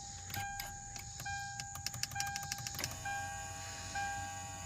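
A newly installed steering wheel tilt/telescope motor in a second-generation Lexus GS300 whirs in short repeated bursts with clicking, then runs more steadily, close by with no talk.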